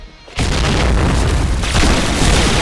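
A grenade blast in the online shooter Point Blank, one loud booming explosion that bursts in abruptly after a brief quiet moment and then rumbles on as a dense, sustained roar to the end.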